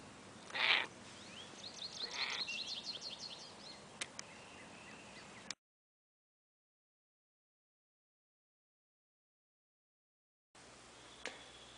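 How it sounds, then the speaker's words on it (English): A cat in a front yard meows once, loud and close, followed by softer chirping and clicking outdoor sounds, a stretch of total silence, then quiet ambience. "Say hello to my cat."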